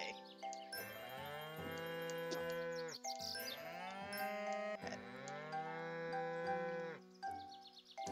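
Cows mooing in the Harvest Moon farming video game, a few long, drawn-out synthetic moos one after another with chime-like tones between, clear and alone.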